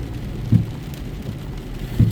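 Steady rain falls during a storm on a road trip, with low rumbles of thunder and two louder thuds, no voices over the downpour.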